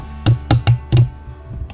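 Four sharp knocks on a wooden table, quick and close, then a couple of fainter taps trailing off, picked up by a CKMOVA SUM-5 USB microphone.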